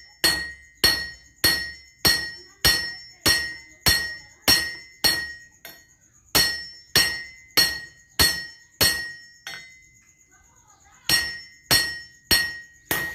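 Sharp metallic hammer blows ring out as a handle is driven onto a frying pan, about twenty close, evenly spaced clinking strikes with one brief pause before the pounding resumes.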